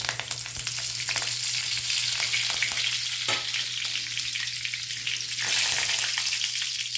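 Curry leaves crackle and sizzle in hot oil during home cooking, a steady close frying hiss with a brief louder burst midway and another toward the end.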